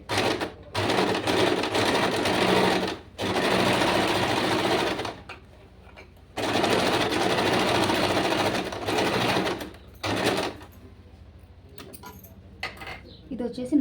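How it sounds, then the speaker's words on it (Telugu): A sewing machine runs a normal straight stitch in bursts, with fast rhythmic mechanical clatter stopping and starting several times and short quiet gaps between runs. "ఇప్పుడు నేను ఒక్కొక్క కుట్టు వేసి చూపిస్తాను చూడండి. ఫస్ట్ అయితే మనం నార్మల్ కుట్టేస్తున్నాం."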